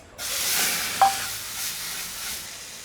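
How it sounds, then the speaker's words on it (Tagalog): Kimchi rice sautés in a little oil in a hot pan with a steady close sizzle, a brief scrape of stirring, and continuous frying hiss throughout with no talking. "Gigisa lang talaga natin. Konting mantika."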